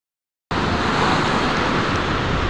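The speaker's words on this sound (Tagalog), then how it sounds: "ang laki ng alon, ang laki ng dagat" A steady wash of broadband noise from large sea waves rolling in, starting abruptly after brief silence and continuing evenly, with a windy rush.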